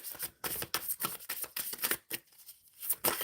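Tarot cards being shuffled by hand, a quick run of crisp riffling and slapping bursts, close and fairly loud, with brief pauses between handfuls.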